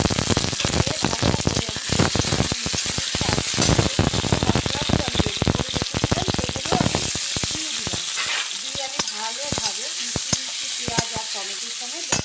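Onions and tomatoes fry with spices in a pan for a chicken curry, with a loud steady sizzle and frequent clattering scrapes of a spoon stirring throughout, alone without talk.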